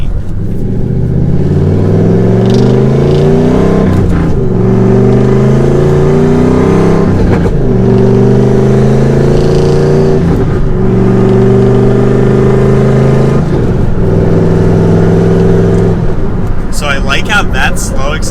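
Turbocharged manual Ford Mustang GT V8 revving loudly through slow gear pulls, the engine note rising and dropping in repeated steps, close and continuous, with a shift-like break between each climb.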